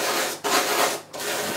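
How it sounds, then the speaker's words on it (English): Coloured chalk rubbed into salt on a sheet of paper, gritty scratchy strokes in three long passes broken by short pauses, close and clear, with no talk. "you just simply rub the chalk"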